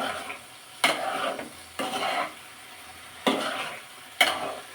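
Spices sautéing in a pan are stirred in four distinct, evenly spaced strokes, each a loud scraping sizzle that fades to a low simmer between passes.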